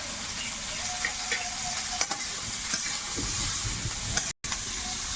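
Onion, garlic and green chili fry in a pan with a steady, close sizzle, broken by a few soft scrapes and knocks of stirring.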